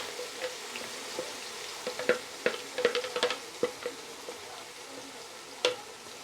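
Finely chopped onion with colored and green peppers fries for a stuffed-vegetable filling, a faint steady sizzle broken by a series of soft clicking stirs from a utensil.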